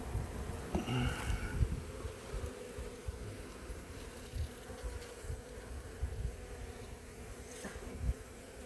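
Honey bees drone in a continuous low buzz at a hive during an inspection, fairly close, with a few louder passes over the steady hum.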